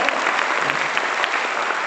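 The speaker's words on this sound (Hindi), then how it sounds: "ताली मर्दों वाली बजाइए।" An audience at a meeting applauds steadily and densely, a loud continuous wash of clapping with no talk over it.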